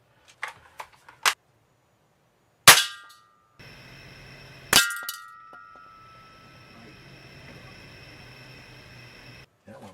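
A Daisy 880 air rifle fires pellets at a can: several sharp cracks, two of them loud with a ringing metallic clink. Smaller ticks sound between them, over a low steady hiss.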